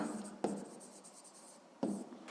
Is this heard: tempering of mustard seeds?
no